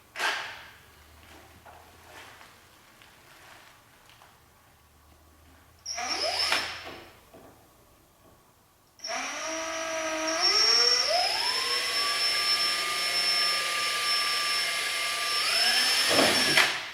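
A power drill whines into motorcycle race bodywork on a Honda CBR1000RR, first in short bursts, then one long sustained run near the end, loud and close with a steady high-pitched motor tone.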